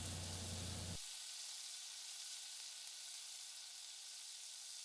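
Butter and fennel seed sizzle steadily in a hot pan, a continuous close crackling hiss that carries on alone after a brief low thump at the start.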